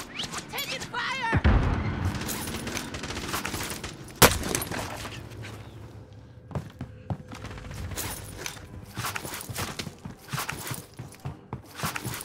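Gunfire in Call of Duty Warzone on Rebirth Island: scattered sharp shots and one loud crack near the middle, mixed with footstep-like clatter and a low boom, while automated voice callouts play.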